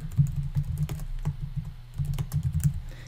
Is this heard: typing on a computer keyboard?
yes